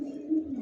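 A pigeon gives a short, soft, low coo, close and alone.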